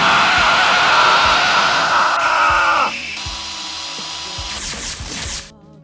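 A power drill whirs loudly at high speed, then drops in pitch and winds down, with shifting tones before it stops.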